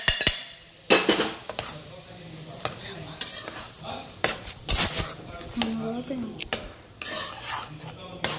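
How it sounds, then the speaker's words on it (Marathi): Dry semolina (rava) being roasted in a pan for karanji, with a spoon scraping and rubbing against the metal in irregular bursts, close and fairly loud, with a voice and other kitchen sounds alongside. "आता हा रवा भाजायला घालूया यात"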